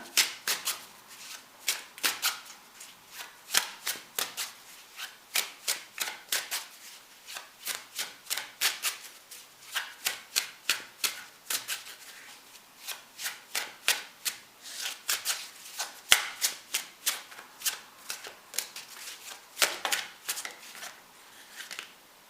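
Tarot cards from the Divine Deck being shuffled by hand: steady, crisp riffling and slapping strokes repeating at an even, brisk rhythm for over twenty seconds, close and fairly quiet with no talking.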